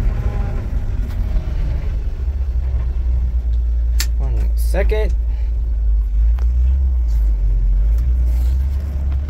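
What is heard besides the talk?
1969 Chevy C50 fire truck engine while driving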